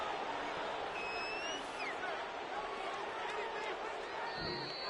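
The stadium crowd in the football video game Madden 24 makes a steady, broad, distant roar that stays even throughout, with no distinct cheers rising out of it.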